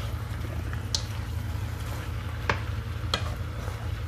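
Native chicken pieces, gizzard and liver being stirred in a pan, with a steady sizzle and soft wet scraping, plus a few brief clinks of the spoon against the pan.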